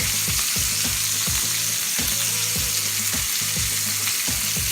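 Ribeye steak searing in a hot pan with herbs and garlic, a loud steady sizzle running throughout with a repeating low rhythmic clatter beneath it, no voices.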